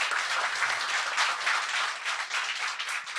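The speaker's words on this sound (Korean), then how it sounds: "박수 부탁드립니다." A studio audience claps steadily and evenly, a soft, continuous patter of many hands heard alone without talk.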